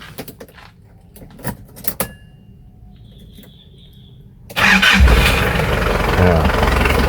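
A Nissan Terrano fitted with an Isuzu diesel engine cranks and fires up, settling into a loud, close, rattly idle after a few key and cabin clicks, with someone talking nearby beforehand.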